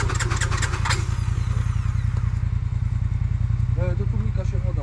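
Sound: Linhai 565L ATV engine starting after being flooded

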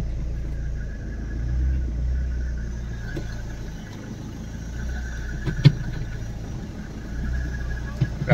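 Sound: Tata Vista car engine running after clutch slave cylinder change

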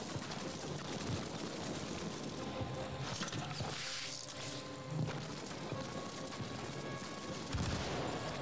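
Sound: gunfire, bullets in Land of War video game

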